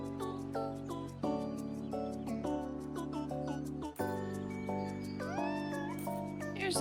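A cat in the video game Minami Lane meows several times over cheerful looping game music, its calls bright and repeated against the steady melody.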